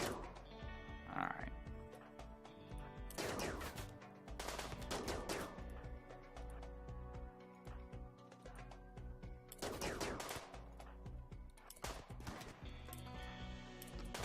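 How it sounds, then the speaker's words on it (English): Gunfire from a tribal colony's firefight against raiding sappers in RimWorld. Bursts of rapid shots come in clusters at a moderate distance, sitting under a steady tonal music bed. "I thought I heard firing from over here"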